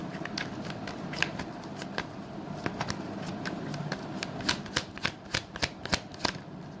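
Tarot cards being shuffled by hand, a rapid run of crisp riffling snaps and flicks that grow sharper and louder toward the end, close up with no talk.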